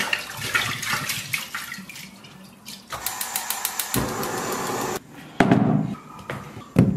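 Water splashes and gurgles as it pours into a pot holding pig's trotters and pork belly, arriving in irregular bursts with clinks from the pot between them.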